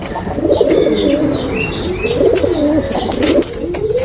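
Pigeons fighting at close range, loud continuous cooing and grunting calls mixed with wing flaps and scuffling, steady throughout with no talking.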